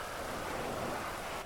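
Rain in GTA V, a brief, dense, continuous hiss of falling rain with a deep rumbling low end, loud and uniform from start to finish.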